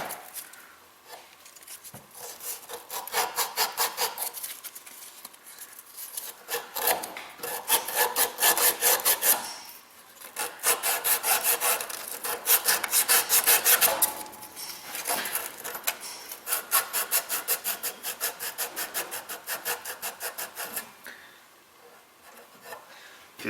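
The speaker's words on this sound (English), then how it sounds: "And I'm going to get a little emery cloth. Get those little burrs out there." Emery cloth rubs burrs off metal car A/C block-off parts in quick, rhythmic back-and-forth strokes that come in steady runs with short pauses, close and fairly loud.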